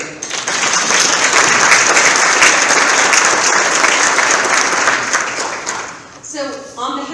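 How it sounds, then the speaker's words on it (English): A crowd applauds loudly and steadily for about six seconds, then the clapping fades as a voice begins speaking. "let's give her a round of applause."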